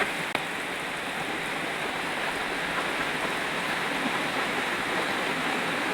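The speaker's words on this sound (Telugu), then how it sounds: "బయట ఫుల్ వాన అయితే పడుతుంది" Dense, steady rushing of heavy rain in Kadapa, a constant broad hiss with no pauses throughout.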